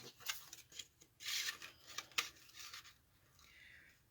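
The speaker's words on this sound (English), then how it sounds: "This one's going to be cut with the punch" A paper punch cutting a piece of card, heard as a few soft, close scraping and crunching strokes in a quiet room.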